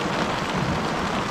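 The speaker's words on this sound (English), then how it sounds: "the rain has started to pick up again, and the lightning has started again" Steady heavy rain pours down during a thunderstorm at a homestead, a dense, even hiss with no voices.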